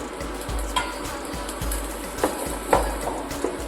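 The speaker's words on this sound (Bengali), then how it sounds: "আলুটা লাল লাল করে ভেজে নিচ্ছি" Potato pieces for a cabbage curry fry in oil in a pan, a steady close sizzle broken by periodic scraping stirs and soft clinks of a utensil against the pan, with no talking.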